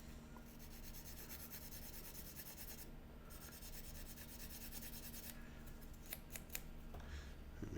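Sandpaper rubbing over small model aircraft parts for an Aviatik (Berg) D.1 biplane, a steady soft scratchy rasping that runs throughout, with a few light taps near the end.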